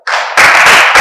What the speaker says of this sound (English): A round of applause again for the debaters.